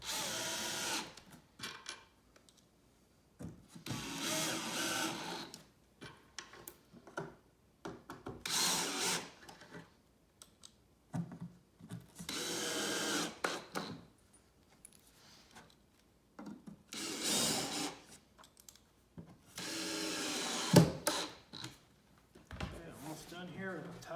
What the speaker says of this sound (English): Now we're going to use these shorter black screws here to put the back on.